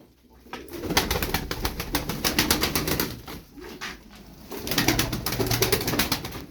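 A pigeon beats its wings in repeated bursts of rapid flapping, close and fairly loud, with a short pause midway before the flapping resumes.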